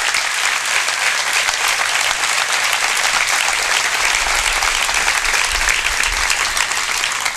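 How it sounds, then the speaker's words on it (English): A large convocation audience gives a sustained round of applause, a loud, dense, even roar of clapping that carries steadily from start to finish with no talk over it. "Give those folks a round of applause."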